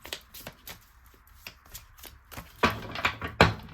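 Tarot cards are shuffled and drawn by hand: a run of soft, quiet riffles and taps, ending in a few louder, denser shuffling bursts near the close.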